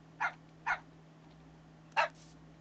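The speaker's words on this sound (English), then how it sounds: "Stop barking." Three short, high-pitched barks from a dog in the video game Minecraft, two close together and one after a pause, over a faint steady hum.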